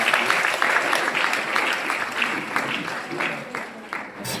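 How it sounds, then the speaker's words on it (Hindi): An audience claps for the chief guest and mentor Nitish at a DXN business gathering, a steady round of applause with a few sharper claps standing out, some voices mixed in, fairly close and sustained throughout. "ग्रेट मेंटर के लिए जोर हाथ ताली।"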